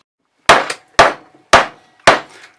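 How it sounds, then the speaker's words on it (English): Four sharp metallic hammer clangs knocking out a stuck bolt on loppers, evenly spaced about half a second apart, each ringing briefly before fading, close and loud. "I'm just going to gently now knock out this bolt"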